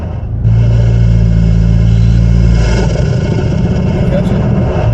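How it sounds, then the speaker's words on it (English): A car engine fitted with a Banks intake and turbo revs up as the pedal is feathered, holding a loud steady mid-low drone with a brief swell, close by and alone. "Feather of the pedal to let you hear the turbo."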